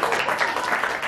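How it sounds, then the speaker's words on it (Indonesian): Brief burst of audience applause at a live show, steady and fairly loud, with crowd voices mixed in. "tepuk tangan dong."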